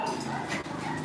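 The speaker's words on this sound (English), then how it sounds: "I got dogs out there barking." Dogs bark and yip at a gate outdoors, rough overlapping barks and whimpers carrying loud and close in a continuous burst.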